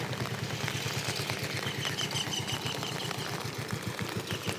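A tractor engine chugs in a fast, steady rhythm in a muddy farm field where millet is being sown, staying at an even level throughout and close by, with no voices.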